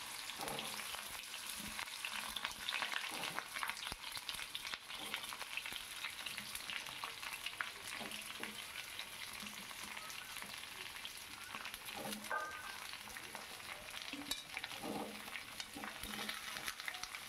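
Mixed vegetables frying and being stirred in a pot for khichuri, a steady close sizzle running throughout with scattered scraping stirs and no talk.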